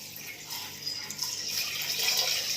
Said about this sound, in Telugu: చల్లటి నీళ్ళు పొయ్యాలి